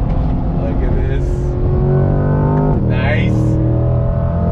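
A 2020 Chevrolet C8 Corvette Z51 accelerating hard on throttle, its engine note climbing steadily through the gears, loud and close from inside the car, with someone talking over it.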